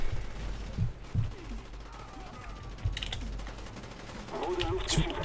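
Gunfire crackles in Call of Duty Black Ops during online play, bursts of shots and impacts scattered across several seconds, mixed with game noise and a heavier flurry near the end.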